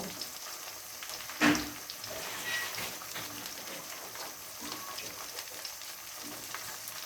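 Garlic mango pickle with spices fries in a pan, giving a steady close hiss of sizzling oil, with one brief louder scrape or clack as it is stirred near the start, and no talking.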